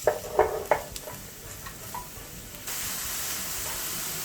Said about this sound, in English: I'm going to dump in the mushrooms.